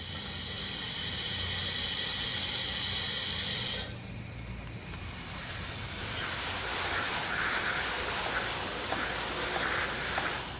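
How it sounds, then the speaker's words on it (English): Steam hisses loudly and steadily from a steam-powered fire pump mounted on a D1 class tank engine, a continuous broad rushing sound that swells partway through. "The addition of a steam-powered pump allowed 2 hoses for the use of fighting fires in the vicinity of the running lines."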